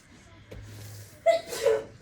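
A single sharp sneeze bursts out after a quiet stretch, followed by a brief breathy exhale, close and fairly loud.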